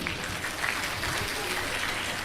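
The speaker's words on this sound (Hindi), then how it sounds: "तालियां बजाइए।" A crowd claps steadily at moderate volume, a brief burst of scattered applause with no one speaking.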